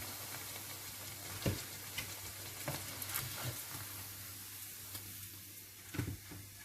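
Sago vadas frying in hot oil, a steady soft sizzle and hiss heard close with occasional faint crackles and light clinks, no talking.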